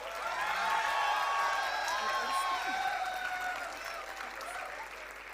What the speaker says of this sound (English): Let's clap for both our star faculties